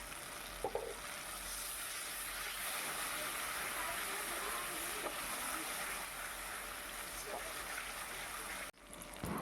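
Ground spice paste with a little yogurt sautés on medium heat in a pan, giving a steady, close sizzle and hiss throughout with a few faint clinks.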